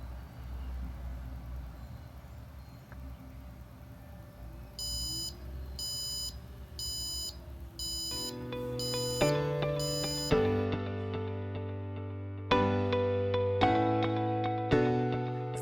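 An Arduino buzzer module sounds a run of short, evenly spaced electronic beeps, clean and steady at first, then giving way to a sequence of louder, lower tones of varying pitch, like a simple melody, over a faint background hum.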